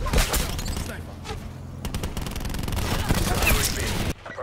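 Gunfire in the shooter Black Ops 4, with repeated sharp shots and dense bursts loud up front over game noise, mixed with talk, then cutting out abruptly near the end.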